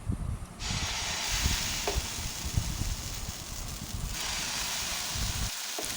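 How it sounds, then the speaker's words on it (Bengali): Dosa batter hits a hot pan with a sudden sharp hiss, settling into a steady bright sizzle that continues alone before cutting off abruptly at the end. "এবারে আমি ধোসার ব্যাটারটা দিয়ে দেব।"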